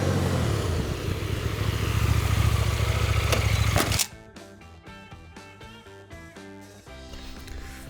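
A KTM 1290 Adventure S motorcycle engine runs loud and steady in a continuous rough drone for about four seconds before cutting off abruptly, giving way to music.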